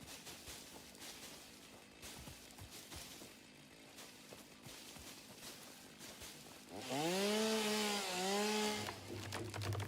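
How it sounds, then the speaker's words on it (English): A chainsaw cuts through trees in a modded factory-building game, a low rough buzz building into a loud whining rev with rising and falling pitch near the end, no voices. "chainsaw, and now we can go and remove as many of these trees that are in the back and way of the builds."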